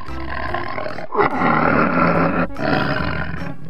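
A toy tiger lets out a loud, sustained electronic roar in bursts, with a brief break in the middle before the roaring resumes, heard alone without talk.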